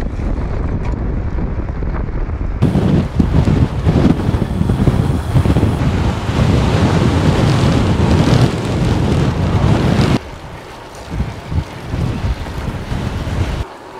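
Strong wind buffets a cyclist's microphone in heavy, gusty rumbles that rise and fall and drop away sharply near the end, with no voices.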